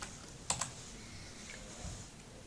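Keys on a USB keyboard connected to a Samsung Galaxy Note N7000 give two quick, close clicks in succession, then a softer tap, over a faint background hiss.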